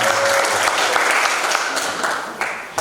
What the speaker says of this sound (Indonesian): Saya minta tepuk tangannya.